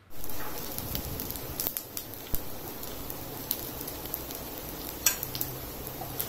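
Daliya veg cutlets fry in a pan with a dense, steady sizzle and crackle, scattered with small sharp pops and a few louder spatters, close up with no talking.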